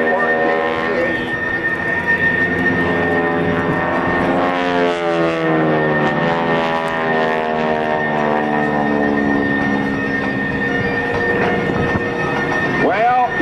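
An F-14 fighter jet taxis at an air national guard open house airshow, a loud, steady turbine whine with a sweeping drone, heard under a public-address announcer's commentary.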